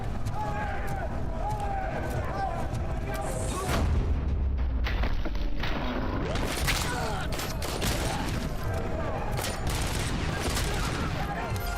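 Bursts of 9mm pistol fire from police-style enemies in the Robocop Rogue City video game, rapid overlapping shots and booms in a fusillade, loud and close, with voices talking over the gunfire.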